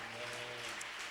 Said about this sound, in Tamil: உங்க குட்டி பாஸ்டருக்கு நல்ல ஒரு ஜோரா ஒரு கைத்தட்டி கொடுங்க பார்க்கலாம்